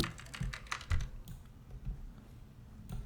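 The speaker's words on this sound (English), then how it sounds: "That keyboard sound, that's the classic Second Life keyboard sound." Classic Second Life keyboard typing sound from the video game, a quick burst of clicky keystrokes close up that thins out into sparse taps with a final click, no talking.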